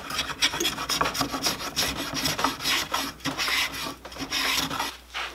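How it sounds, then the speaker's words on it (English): A spokeshave shapes a wooden acoustic guitar neck with close, continuous rasping strokes, each scrape repeating in a steady back-and-forth rhythm without talk. "it's the first time I've ever used a spoke shave"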